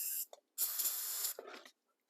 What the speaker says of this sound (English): I'm just going to spray that in what I believe is probably the in jets and in everywhere we can